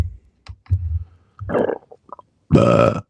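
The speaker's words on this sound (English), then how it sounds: "I did not mean to burp like that" A loud, close burp erupts near the end, a long guttural belch after some smaller throat sounds and clicks.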